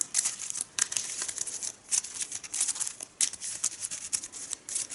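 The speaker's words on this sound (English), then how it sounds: "I'm gonna shuffle my deck." Mage Knight board game cards being shuffled by hand: a close, quiet, crisp riffling and crinkling that comes in irregular bursts for several seconds, with no voice.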